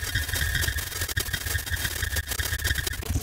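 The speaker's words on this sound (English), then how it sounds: "It just has a very particular granular sound" A dense, buzzing granular-synthesis texture with grainy, stuttering fluctuations and a steady low rumble, sustained and loud throughout.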